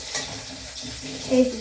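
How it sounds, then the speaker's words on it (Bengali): Potato pieces frying lightly in oil in a kadai, a soft continuous sizzle with a brief stir of the pan near the end, under a short spoken remark. "আলুগুলোকে হালকা হালকা করে ভেজে নিয়েছি, আলুগুলো বেশ ভাজা হয়ে গেছে।"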